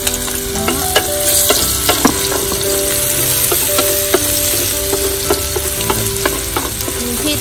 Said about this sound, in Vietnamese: Đấy, đây là chảo dầu mình đã đặt lên rồi. Là chảo rồi các bạn. Giờ mình sẽ cho tỏi vào nhá.